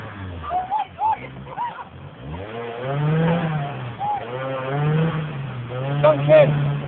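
An off-road vehicle's engine revs in uneven bursts as it strains up a climb and its back wheels lift, heard close alongside excited shouting voices.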